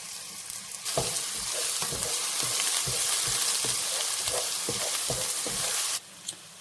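Onions frying in a pan for mutton curry, with crushed ginger, garlic and green chilli, give a loud, dense sizzle punctuated by regular scraping stirs, close up and without voices.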